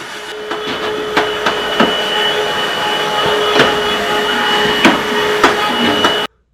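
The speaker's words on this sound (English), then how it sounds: "Portable vacuum cleaner for those little jobs. I'm gonna vacuum this up." Portable vacuum cleaner running steadily while cleaning a jukebox, a constant loud whine with a steady tone, punctuated by periodic knocks and clunks as the nozzle bumps the cabinet, then cut off abruptly.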